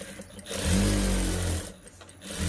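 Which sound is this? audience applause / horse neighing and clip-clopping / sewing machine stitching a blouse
sewing machine stitching a blouse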